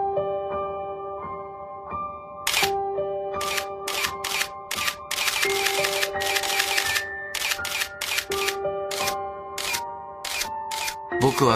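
A camera shutter fires in a rapid series of sharp clicks, some in quick bursts, over soft sustained music and a voice speaking.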